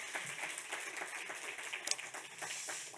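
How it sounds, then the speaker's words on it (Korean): Congregation applauding during a church youth service, loose, moderately loud clapping from a roomful of people with a few sharper individual claps standing out. "Demos un fuerte aplauso."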